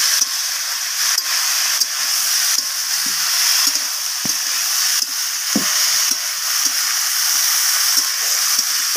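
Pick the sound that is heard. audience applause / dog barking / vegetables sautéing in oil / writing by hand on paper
vegetables sautéing in oil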